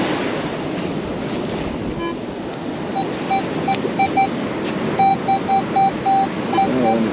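Ocean surf rushes and washes over a beach in a steady, roaring hiss, mixed with wind buffeting the microphone and the intermittent high-pitched beeps of a metal detector.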